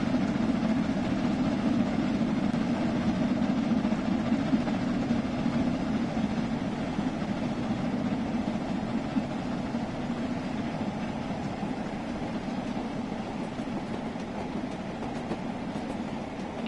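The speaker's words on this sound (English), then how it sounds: "You can hear the track sounds as well" Steady rolling rumble of a steam train running over rail joints in the Train Sim World 2 game on the Brighton line, a continuous close wheel-and-track drone with faint clickety-clack and no talk.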